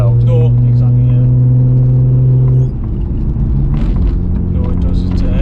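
A 1993 Nissan Skyline R32 GTR engine hums while driving with a cold engine, a loud steady drone that drops in pitch midway as the car eases off, with people talking over it inside the cabin.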